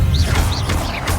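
Incendio fire spell cast in Hogwarts Legacy, a loud continuous whooshing flame burst with low rumbling body and brief swirling accents, filling the short moment without any voices.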